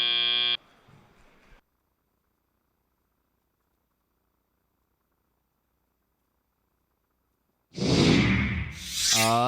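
A match timer buzzer sounds at the end of a robotics competition match, a short loud tone followed by brief noise and then silence, before a burst of crowd or arena sound rises at the end.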